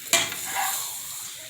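A hamburger patty sizzles steadily in a pan, a sharp crackle near the start settling into an even, close frying hiss.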